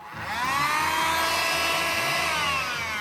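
A corded electric window-cleaning device runs with a steady, close motorized whine that holds at an even level for about three seconds, with no voices.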